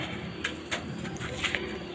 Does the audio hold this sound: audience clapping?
no